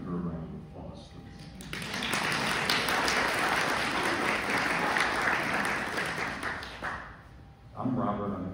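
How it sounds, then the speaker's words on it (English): An audience applauds at a lecture-recital with classical piano, dense clapping swelling after a brief spoken lead-in and holding steady for several seconds before tapering as a voice resumes. "Can we give her a round of applause"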